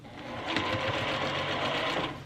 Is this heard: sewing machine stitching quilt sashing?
yes